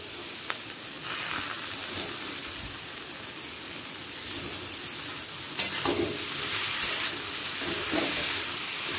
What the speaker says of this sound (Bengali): চিচিঙ্গেটাও আলুর সাথে মিশিয়ে নেব।